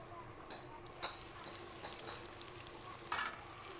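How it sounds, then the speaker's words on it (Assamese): Duck meat frying in a covered pan on a home stove, a steady close sizzle with a few louder spits and crackles, no voices. "এনেদৰে ঢাকন মাৰি ভাজিলে গেছটো কমাই ল'ব লাগে।"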